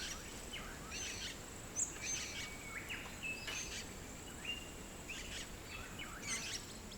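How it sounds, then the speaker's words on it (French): Several birds chirp and sing in short, scattered phrases over a soft, steady background of insects and breeze, faint and distant. "Écoutons juste une seconde si on entend nos oiseaux."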